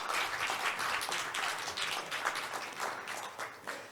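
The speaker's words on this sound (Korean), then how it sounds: "박수 부탁드립니다." Audience applause at a Korean marine fisheries science forum as a professor is welcomed to the stage: fairly soft but continuous clapping from a seated crowd, with distinct claps rising and falling throughout.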